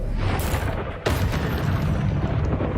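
A Confringo fire spell blast from the video game Hogwarts Legacy: a loud, sustained, rumbling explosion that fills the whole clip, with a sharp second burst about a second in and no talk.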